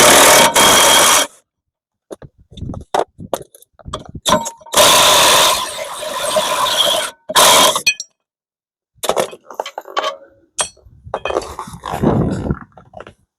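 On a 2016 Ford Transit Connect, a power tool rattles and buzzes in loud bursts while backing out the rear brake bracket bolts with a 15 mm socket, broken by metallic clinks and short pauses.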